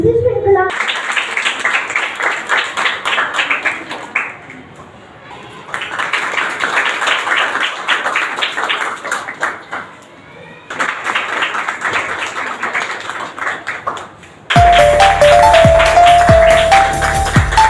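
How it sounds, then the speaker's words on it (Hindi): Loud bursts of applause from a school audience cheering children at a Hindi Divas celebration, swelling in three waves with brief lulls between them, before a different, brighter sound cuts in at the end. "और मॉडल जोरदार तालियां सभी बच्चों के लिए।"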